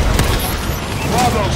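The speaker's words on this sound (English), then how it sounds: "Friendly bombing run clearing the way" Bombing-run explosions in Call of Duty: Advanced Warfare Domination on the Solar map form a dense, continuous rumble of blasts and crackling fire, loud and close throughout with no clear gaps.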